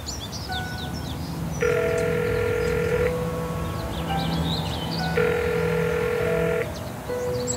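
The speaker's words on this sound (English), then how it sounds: "Hang on, I'll phone him now." Telephone ringback tone in the video game Broken Sword 5: The Serpent's Curse: two long steady rings separated by a pause, with faint chirping birds in the background and no speech.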